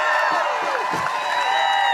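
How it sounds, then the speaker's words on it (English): A crowd at an outdoor voting-rights rally at the Texas Capitol cheers and whoops steadily in a dense, continuous roar, with scattered shouts and no break in the noise. "Let's give Beto O'Rourke a round of applause."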